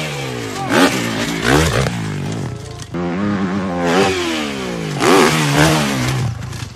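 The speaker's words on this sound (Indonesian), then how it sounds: "Wih, ada motor cross teman-teman." A motocross dirt bike engine revs hard several times nearby, each rasping surge climbing in pitch before dropping back to a rough idle.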